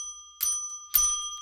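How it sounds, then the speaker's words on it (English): A small bell dings twice in quick succession, two bright clear strikes with a lingering ring between them, fairly faint and alone without talk. "Give her 3 bells with the little bell"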